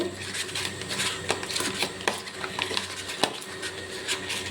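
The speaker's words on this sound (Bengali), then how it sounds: "তাতে আমি হলুদ দিয়ে দিলাম পরিমাণ মতো নুন দিয়ে দিলাম পরিমাণ মতো এবারে ভালো করে মেখে নেব" Brinjal slices are mixed by hand with turmeric and salt in a bowl, producing a steady close rubbing and squelching stir with occasional light clicks against the vessel and no talking.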